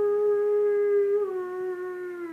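A person imitates a male wolf's howl, one long steady tone held for about two seconds before dipping slightly lower and trailing off, close to the microphone in a quiet room.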